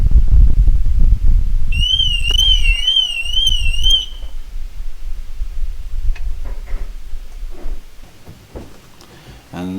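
A Mercedes B-Class W246 car alarm briefly sounds as the car is lowered off axle stands after an oil change: a loud, warbling electronic tone lasting about two seconds over low rumbling and clunks, then fading to quieter handling noises.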